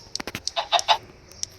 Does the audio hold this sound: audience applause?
no